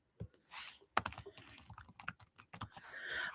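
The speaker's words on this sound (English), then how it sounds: "Hold on, I'm trying to type a message." A message typed on a computer keyboard in quick, irregular bursts of clicks, close and fairly quiet, with a brief pause partway through and no talking.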